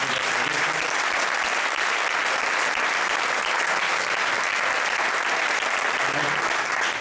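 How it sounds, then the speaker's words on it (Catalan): Steady, loud audience applause fills an award ceremony hall in Catalonia as architecture projects are honoured, dense and continuous from start to finish. "Un aplaudiment."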